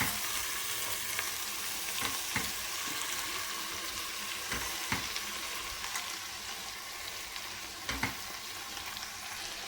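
Amaranth leaves are stirred into salted onions that have browned in a pan, for a moth bean and amaranth dish. A steady close sizzle runs throughout, broken by scattered clacks and scrapes from the stirring.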